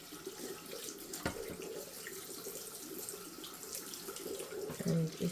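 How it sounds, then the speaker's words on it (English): Hot water runs steadily from a tap into a sink, a constant close splashing stream with a few knocks and clatters over it. "I have some hot water running"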